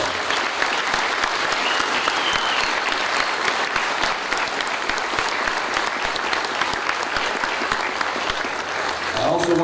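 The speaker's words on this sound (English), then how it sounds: "Please give them a round of applause." Steady, dense applause from a ceremony crowd honouring World War II submarine veterans and widows at a memorial event, many hands clapping continuously at full strength for nearly ten seconds.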